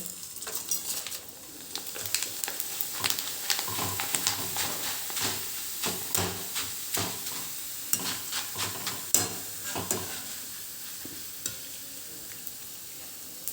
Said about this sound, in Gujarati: આપણા બટાકાનું છીણ તળવાનું છે